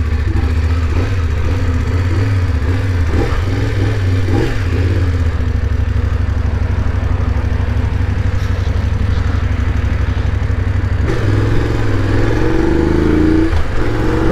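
A motorcycle engine drones steadily and close up while riding off-road through the Pantanal between Brazil and Bolivia, with a constant mid-pitched hum and small shifts in revs, and no talking.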